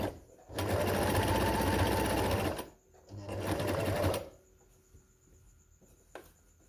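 A sewing machine stitches around the edge of a handmade surgical scrub hat in two loud, steady runs separated by a short pause, then stops. Only faint handling noise follows.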